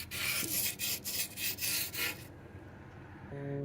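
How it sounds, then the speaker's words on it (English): A flaking cast iron skillet is sanded by hand in a quick series of rhythmic, gritty rasping strokes. The scraping stops partway through and leaves near silence. "I have been trying to sand this down"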